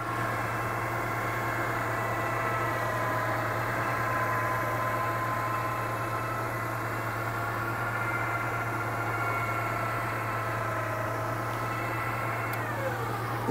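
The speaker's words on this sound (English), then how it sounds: "And winch in." A vehicle winch winds in cable with a steady, continuous mechanical whir and hum, close and even throughout with no talking.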